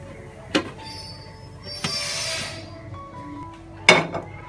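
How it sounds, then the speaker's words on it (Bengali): A plate set over a pan holding an egg omelette makes three sharp metallic-ceramic clinks, spaced apart over a quiet kitchen background. "একটা প্লেট প্যানের উপরে দিয়ে এভাবে করে উল্টে নেব।"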